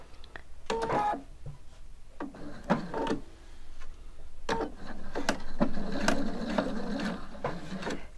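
A sewing machine stitches along the raw edge of satin ribbon in short, uneven bursts with brief pauses, using a straight-stitch or quarter-inch foot, close and moderately loud with no voices.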